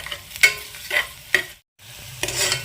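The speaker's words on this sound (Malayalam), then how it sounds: "ഇനി നമുക്കിത് നന്നായിട്ടൊന്ന് വഴറ്റിയെടുക്കാം." Onions and chopped green chilli sauté in a pan for chicken kurma: a steady sizzle runs under repeated spoon stirs and scrapes. It drops out for a moment, then the frying resumes.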